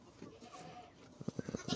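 Two goats for sale bleat in a short run of sharp, repeated calls toward the end, preceded by quieter farmyard ambience with faint earlier bleats.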